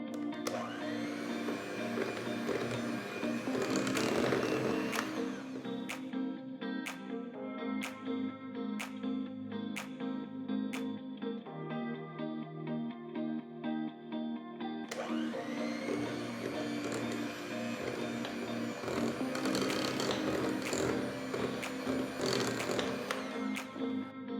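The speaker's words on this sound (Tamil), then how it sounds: "ஒரு தடவை நல்லா பீட்டர் வச்சு மிக்ஸ் பண்ணிட்டு" A steady electric beater motor whirs loudly for a long stretch while mixing cake batter, with a brief change in pitch midway and a few faint clicks.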